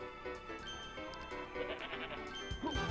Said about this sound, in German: Klappe, Ziegenbock.